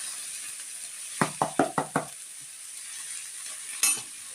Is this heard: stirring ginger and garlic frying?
yes